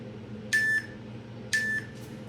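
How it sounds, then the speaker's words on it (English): Two electronic workout-timer beeps sound during a pyramid exercise session, each a short, bright tone lasting about a quarter second, spaced one second apart over a low steady background hum. "I can turn those timers off for the last time today."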